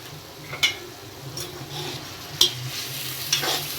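A spoon stirs salt and turmeric into a moong dal stuffing in a pan over low gas, with a few distinct scraping clicks over a soft background sizzle and no speech.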